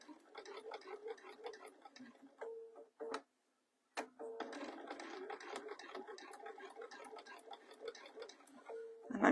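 Sewing machine stitching slowly on a long stitch while making a purse, a quiet close series of rapid ticking and clacking stitches with a brief pause midway before resuming.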